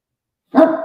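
A dog gives a single close, loud bark that breaks a short silence, then trails into a rough, sustained yelp or whine to the end.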